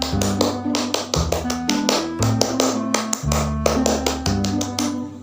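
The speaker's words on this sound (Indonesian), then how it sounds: "kita 2 kali tepuk pramuka ya." Scout rhythmic clapping, the Pramuka clap pattern, done twice: sharp, close hand claps in quick patterned bursts with brief pauses between groups, alongside an underlying tonal backing.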